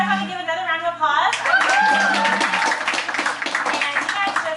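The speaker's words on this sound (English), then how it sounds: "if you guys want to give another round of applause." A round of applause with clapping from a crowd at a dance marathon planning meeting, loud and sustained, mixed with talking voices.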